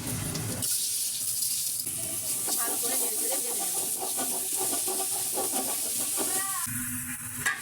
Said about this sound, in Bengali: তেলটা গরম হয়ে গেছে চাউলগুলো আমি দিয়ে দিচ্ছি